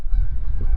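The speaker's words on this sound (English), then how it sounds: "There's the geese." A goose gives a short, nasal honk nearby over a low rumble of wind, outdoors where a flatbed truck is being loaded.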